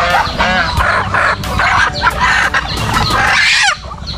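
Chickens and young laying hens on a farm clucking and squawking in quick overlapping bursts, loud and close, with a sharper call rising near the end.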